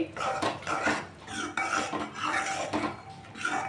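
A spoon stirs and scrapes roasting besan in a pan for Sindhi kadi. The rhythmic rasping strokes are close and fairly loud and repeat steadily with no talking.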